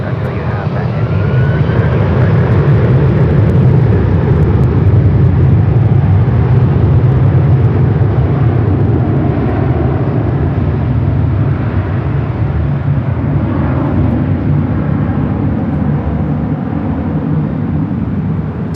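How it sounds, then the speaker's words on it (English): A Delta Air Lines Airbus A330-300 taking off at Los Angeles International Airport, a loud, steady roar of jet engines that stays strong and sustained throughout, with a voice talking over it. "Delta Airlines 446 taking off to Atlanta on the A330 300"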